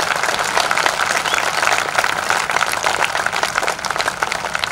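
A full hall audience at a kavi sammelan (poetry gathering) in Nanded claps in dense, sustained applause, steady and loud for the whole stretch, with no speech over it.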